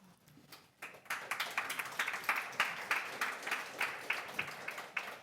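An audience claps at a board of health meeting, a scattered crowd of hands that starts after a quiet moment and holds steady for several seconds at moderate volume.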